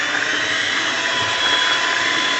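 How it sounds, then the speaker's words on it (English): A cheap $10 electric stand mixer works thick bread dough with flour being added, a loud continuous motor whine and strained droning hum running steadily throughout. "we're going to keep adding flour until the mixer starts choking"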